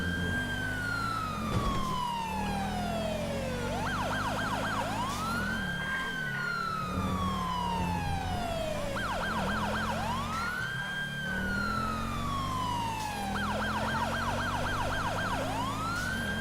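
A police car siren from the Grand Theft Auto driving game, with an LSPD Scout patrol vehicle, sounds continuously and loudly, cycling between long rising-and-falling wails and fast yelping bursts over a steady engine rumble.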